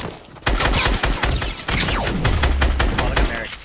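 Dense bursts of rapid gunfire from a shooter video game rattle loudly and close, with overlapping shots and a brief lull before the fire resumes.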